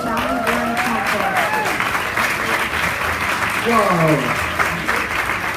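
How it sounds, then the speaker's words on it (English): A live audience at a children's book award announcement breaks into sustained, loud applause that fills the room, with excited voices calling out over the clapping. "Let's have a giant round of applause again"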